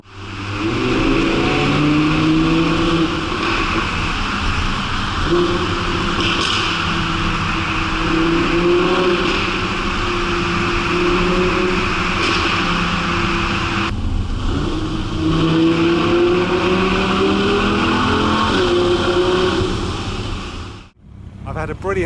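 An Audi R8 engine revs and accelerates loudly, its pitch rising and falling through gear changes, sustained for about twenty seconds before cutting off abruptly.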